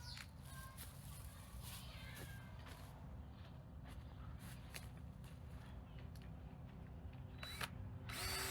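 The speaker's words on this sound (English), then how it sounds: "then we're going to drill some holes" A power drill boring holes into a mounted T-post for a blackberry trellis outdoors, running steadily with a continuous whine and hum through the whole stretch, fairly close.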